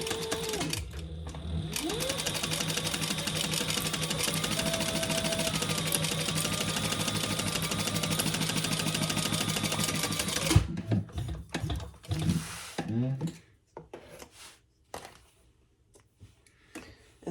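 A sewing machine stitches the bottom seam of a crossbody bag in one long, steady, fast rattle lasting about ten seconds, then falls silent, followed by scattered handling knocks and rustles.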